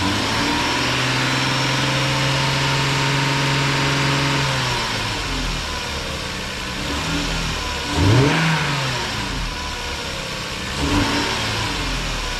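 A car engine runs steadily with an idle hum, then the note shifts and swells in brief revs before settling back to a rumbling idle.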